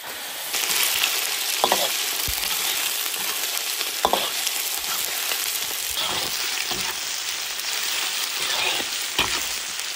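A soft-shelled turtle and a few loaches cook together in an iron wok, giving a steady, close sizzling hiss for the whole stretch with a few sharp stirring scrapes along the way and no talking.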